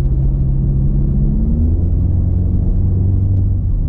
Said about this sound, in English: I don't know if you guys can hear that turbo.